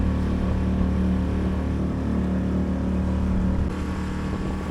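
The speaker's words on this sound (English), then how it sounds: "We give the motor a little bit more and we pass through the Abermenai channel." An outboard motor drones steadily up close while pushing a Drascombe Lugger dinghy through a coastal channel, a constant low hum with no voices over it.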